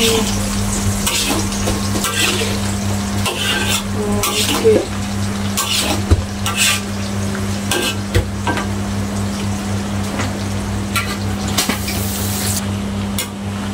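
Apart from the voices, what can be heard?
tofu frying and popping in oil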